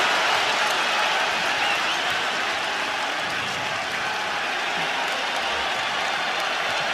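UConn basketball arena crowd of thousands roaring and clapping at a college game against Creighton, a dense, steady wash of applause and cheering throughout.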